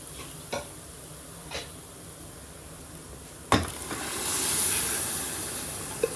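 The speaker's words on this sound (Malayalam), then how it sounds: "എന്നിട്ട് നമ്മൾ ആ വേവിച്ച് വെച്ചിരിക്കുന്ന ഗ്രീൻ പീസ് ഇട്ട്" Cooked green peas tipped into a curry and stirred in a pan, a few soft spoon clinks followed by a sharp clatter and a swelling sizzle and steamy hiss, close and with no voices.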